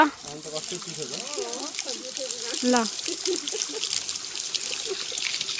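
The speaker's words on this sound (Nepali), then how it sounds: "आन्टीलाई पानी खानु नि त धाराबाट" Water trickles and pours from a village tap in Arbeni into a water pot, a soft continuous stream running under women chatting close by.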